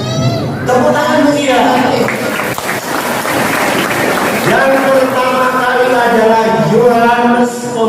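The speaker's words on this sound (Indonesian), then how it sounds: "Tepuk tangan dia." Congregation clapping during an Easter Sunday morning Mass in church, a loud, steady wash of applause mixed with crowd noise and voices that holds for several seconds.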